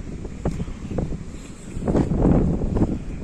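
Strong wind buffets the microphone on the Black Sea coast at Arkhipo-Osipovka during a storm, in gusty bursts that swell louder toward the end.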